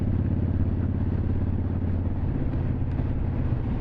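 A cruiser motorcycle rides along with a steady low engine drone mixed with wind rush, loud and continuous with no pauses.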